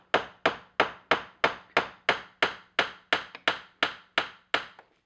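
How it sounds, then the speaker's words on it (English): Nail tacks hammered into the hard wood of an antique chair being restored and restrapped: about fourteen sharp, evenly spaced strikes, loud and close, each with a short ringing decay, with no talking. "how not to hammer your thumb and how to keep your tacks straight"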